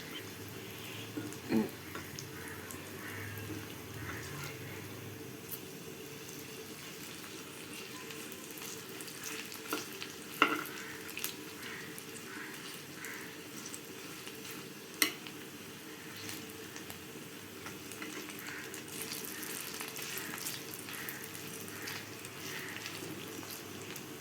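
Cabbage pakoras (fritters) frying in hot oil, a steady soft sizzle throughout with occasional sharp ticks and pops of utensils, close and moderate in volume, no talk.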